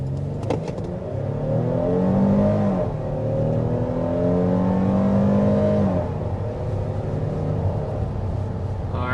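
2025 Toyota Grand Highlander hybrid accelerating up to about 60 mph, a loud continuous engine drone with rising whine and gear shifts, heard from inside the cabin with no talk.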